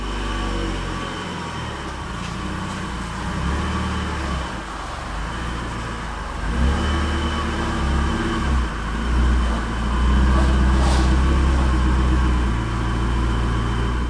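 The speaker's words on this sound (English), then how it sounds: "we're going to pull the Miata into the garage, get it up on the quick jacks" A 1999 Mazda Miata is driven into a garage, its engine idling and rumbling low and steady, rising slightly as it creeps forward, heard close with no talking.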